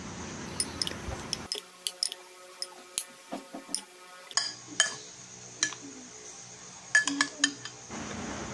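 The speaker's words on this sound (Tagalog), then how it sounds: "Ilagay na rin natin ang kamatis, sibuyas, at haluin ng mabuti." Bitter gourd salad with tomato and onion being tossed in a bowl, giving a run of sharp clinks and taps from a utensil against the bowl, irregular and close, with no talking.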